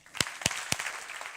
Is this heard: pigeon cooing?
no